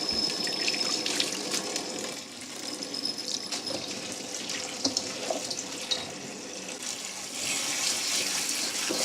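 Tap water runs steadily into a sink while rose hips are rinsed under it, with faint splashing and small knocks, nearby and with no talking.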